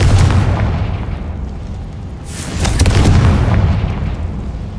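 Confringo blasting spell from Hogwarts Legacy on PC, a deep booming explosion burst over a rumbling low background, loud and close with a second swell of impact, no talk.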